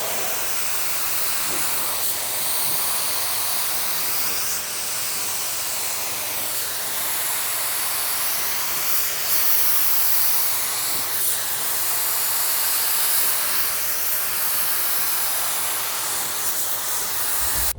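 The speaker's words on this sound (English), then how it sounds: "Now we're laying down the first coat of clear" Spray gun set to 30 psi laying down a first coat of clear, a steady broadband hiss of atomized spray that holds evenly throughout with slight pulses, close and alone without talk.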